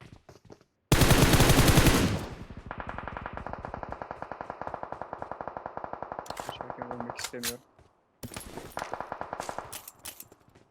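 Rapid automatic gunfire in a PUBG Mobile firefight at Drop on the Livik map. A loud opening burst gives way to a long, steady stream of evenly spaced shots, with brief pauses and a few sharp spikes.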